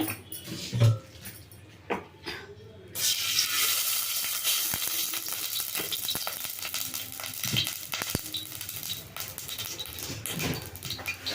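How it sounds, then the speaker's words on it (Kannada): Oil heats in a cooking pot on a stove for a lentil curry, starting with a few knocks and clatters, then settling into a steady, moderately loud hiss and crackle with faint pops, no voices. "ಈಗ ಇದಕ್ಕೆ ಎಣ್ಣೆ ಹಾಕ್ಕೊಳ್ತೀನಿ ನಾನು"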